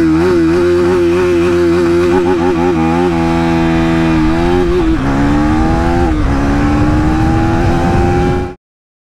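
A 2024 KTM Duke 390 motorcycle engine revs hard and close, pitch climbing in steady steps through the gears as it pushes toward top speed, loud and continuous before cutting off abruptly.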